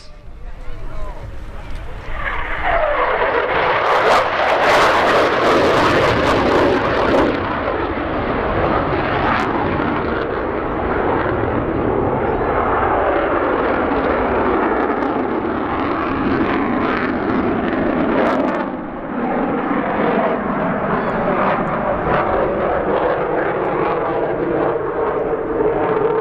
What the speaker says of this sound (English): 29 Squadron Royal Air Force Coningsby Typhoon. Come on, feel the noise!